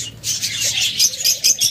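A pair of cockatiels gives bright, high chirping calls in quick bursts near the listener, with faint wing flutters and a low background murmur.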